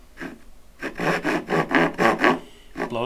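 A hand saw starting a dovetail cut in wood on its fine teeth, producing a quick series of close, raspy strokes in a steady back-and-forth rhythm after a few lighter starting scrapes.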